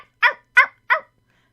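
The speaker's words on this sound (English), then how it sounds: "The barking of a puppy sounded from behind them." A little puppy gives three quick, sharp yaps at an even pace, close and clear against silence.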